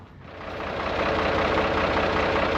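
A tractor engine, about to be hooked to a post hole auger, runs in a steady, close, loud idle that rises slightly in the first second, a rough rumble with knocking texture and no talking.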